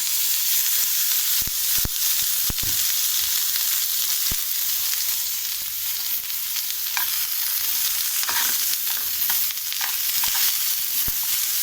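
Onions and tomatoes frying in a spoonful of oil for paneer curry, giving a steady, loud sizzle throughout with a few sharp clicks of a spoon against the pan.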